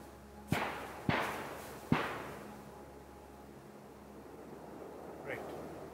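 Three sharp distant gunshots from hunters ring out in a forest near Lugano, Switzerland, roughly half a second apart, each trailing a long echoing decay over steady wind and outdoor ambience.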